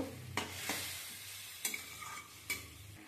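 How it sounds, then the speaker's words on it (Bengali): Vegetables being stirred with spices and a little water in a pan: soft scraping strokes at an uneven pace over a quiet sizzle, close and fairly faint, with no talking. "দিয়ে ভালো করে একটু সবজিটাকে মশলার সঙ্গে কষিয়ে নেব।"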